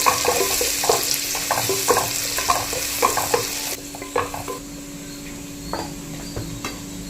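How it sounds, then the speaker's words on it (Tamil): Onions sauté in a hot pan for egg rice, sizzling steadily while a spoon stirs them in repeated scraping strokes, close and clear, with the stirring easing off partway through. "இப்போ வந்து வெங்காயத்தை ஆட் பண்ணிக்கலாம். நல்லா 2 நிமிஷம் நல்லா நம்ம வதக்கலாம்."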